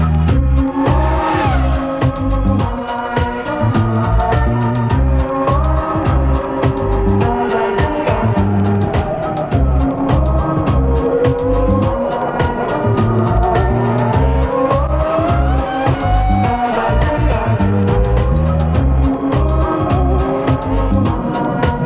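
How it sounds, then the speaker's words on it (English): Kart racing at the 2002 Irish Kart Grand Prix, where small two-stroke kart engines buzz and rev loudly and continuously as several karts pass close. Pitch rises and falls through the corners, with layered engine whines overlapping. "We are at the Irish Karting Grand Prix"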